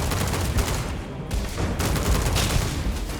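Rapid gunfire from a firefight in Starfield crackles in fast, loud bursts with short gaps between them, echoing heavily over low rumbling background noise.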